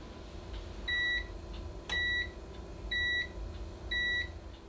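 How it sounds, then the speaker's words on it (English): Four evenly spaced electronic beeps from a bread maker signalling it has finished, about a second apart, each a short double-tone chirp over quiet room hum. "That beeping is indicating that Mark's bread has finished"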